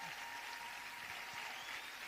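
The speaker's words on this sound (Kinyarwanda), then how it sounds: "reka tubaha amashyi" An audience at a church gathering applauds in a steady, faint wash of clapping that lasts about two seconds with no pause.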